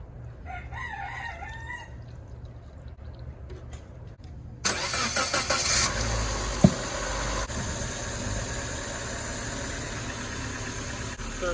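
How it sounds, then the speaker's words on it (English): A Chevy Geo Metro engine cranks and catches at about four seconds, then keeps running loudly and steadily at close range, with a sharp knock near the seventh second; a rooster crows faintly beforehand. "Let's go ahead and try to crank this thing out and see if we got enough oil and see if the radiator holds."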